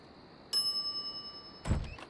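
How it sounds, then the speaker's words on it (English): A service bell at a shop counter in The Secret of Monkey Island rings once with a clear bright ding and a lingering tone, followed by a second, busier burst of sound near the end. "some idiot's already ringing that stupid bell"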